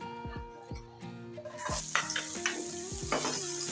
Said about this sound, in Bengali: প্যানের ভিতরে দিয়ে দিচ্ছি তেল, এখন দিয়ে দেবো পেঁয়াজ কুচি